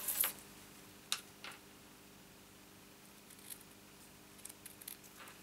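Scissors snipping excess paper from a papercraft basket, a few quiet close clicks and snips spaced apart in an otherwise quiet room.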